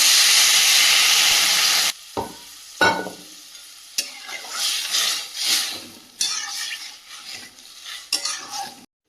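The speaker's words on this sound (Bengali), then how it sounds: "আলুটা বেশ ভালো করে কষিয়ে নিয়েছি পরিমাণ মতন জল দিয়ে দেবো" Potatoes fry hard in a pan with a loud, steady sizzle and a sharp hiss at first, then scraping stirs and spoon knocks come through as the frying fades and swells over several seconds.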